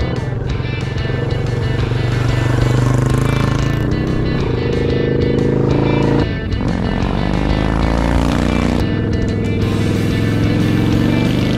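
A Yamaha Drag Star motorcycle engine drones steadily and loudly throughout, with a brief dip partway through before the rumble resumes.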